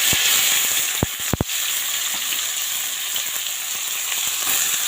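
Crushed garlic and chopped onion frying in hot oil, a bright steady sizzle close up with a few sharp clicks and taps of a spoon against the pan.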